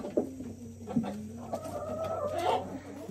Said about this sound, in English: There's a nice looking black Australorp rooster we hatched out.